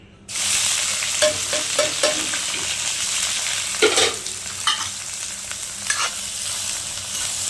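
Steady sizzling of shallots sautéing in a pan, with occasional stirring scrapes and clinks from a utensil.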